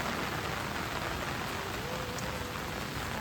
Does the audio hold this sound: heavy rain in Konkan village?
yes